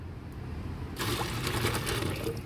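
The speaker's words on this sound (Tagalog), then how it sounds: "lagyan natin ng tubig ang loob" Chlorine-free water is poured into a container, starting after a brief quiet moment as a steady close splashing gush that fills the space.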